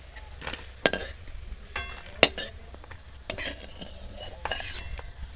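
Crispy prawn fritters frying in hot oil, a soft sizzle broken by sharp scrapes and clinks of a utensil stirring them in the pan, with no talk.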